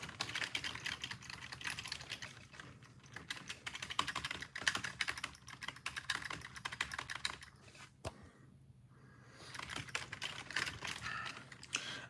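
Steady, busy typing on a computer keyboard during a live sports talk show, with rapid clicking keystrokes that run almost the whole time and pause briefly near the end.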